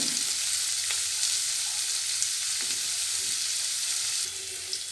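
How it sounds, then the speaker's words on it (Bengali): Carrots and cabbage fry in a pan for sabudana pulao, giving a steady broadband sizzle with a few faint stirring scrapes, close and continuous, with no talking. "গাজর আর বাঁধাকপিটা একটু শক্ত, তাই একটুখানি আগে দিয়ে একটু নাড়িয়ে চাড়িয়ে দিতে হবে"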